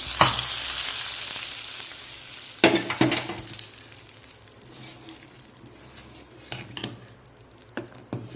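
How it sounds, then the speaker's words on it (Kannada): A hot tempering of cumin, mustard, garlic and curry leaves poured into mint sambar sizzles briefly, then fades into soft bubbling with occasional clinks of a spoon or pan, fairly quiet overall. "ಈ ಒಗ್ಗರಣೆ ಸಾಂಬಾರಿಗೆ ಹಾಕ್ತಾ ಇದ್ದೀನಿ"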